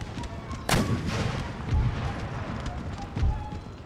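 Cannon artillery in the game Empire: Total War booms out in several heavy shots, one loud blast followed by duller distant reports over a constant battlefield din.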